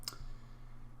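A single sharp computer mouse click on an OK button, close and crisp, followed by faint low room hum and near silence.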